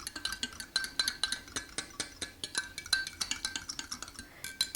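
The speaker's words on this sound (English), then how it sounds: "I'm just going to take a fork and just stir that around" A fork stirs red velvet cupcake batter in a bowl, making a steady run of quick clinks and taps against the side, close and fairly quiet, with no talking.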